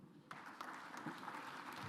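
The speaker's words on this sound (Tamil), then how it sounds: "உங்கள் கரகோஷத்தோடு" Audience applause at a Tamil festival gathering in London, a dense wash of clapping that swells in abruptly after a quiet moment and carries on steadily with scattered louder claps.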